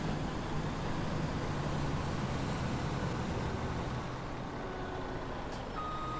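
In Farming Simulator 17, a truck backs up with a steady repeating reversing beep over constant engine and traffic rumble, mid-distance and fairly even in level.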